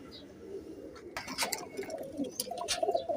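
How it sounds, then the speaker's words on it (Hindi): Strong perwazi pigeons coo nearby, a cluster of soft throaty calls mixed with brief chirps and rustling that grows busier and louder through the second half. "बड़े माशाल्लाह मजबूत कबूतर हैं और नाम निकालने वाले कबूतर हैं"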